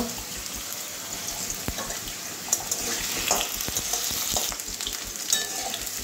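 Potatoes fry lightly in a pan, a steady sizzle broken by scraping stirs and small sharp pops and clicks, close and at moderate loudness.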